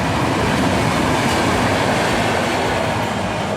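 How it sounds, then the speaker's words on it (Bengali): A train passes close by near a temple, sending out a loud, continuous rumble with rolling wheel clatter that holds steady from start to finish, with no talk. "গাড়িটা চলে যাক ট্রেনটা চলে"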